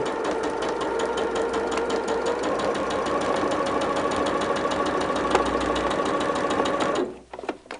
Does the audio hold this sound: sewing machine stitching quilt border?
yes